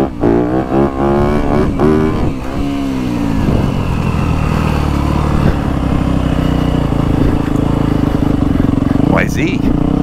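A 2024 Yamaha YZ250F dirt bike, a supercross race machine, revs and runs steadily close by, its engine pitch climbing and falling as the throttle opens, with a rider talking briefly over the motor.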